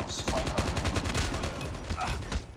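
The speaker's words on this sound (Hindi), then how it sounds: "मेरे पे गोलियाँ चला तो रहा था यहाँ से" Gunfire aimed at the player in Call of Duty Mobile, a rapid, continuous stream of automatic shots, loud and close, running steadily from start to finish with speech faintly beneath.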